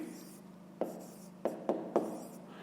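Pen or pencil writing a fraction by hand on paper: a few short, distinct scratchy strokes close up, spaced irregularly over a quiet background.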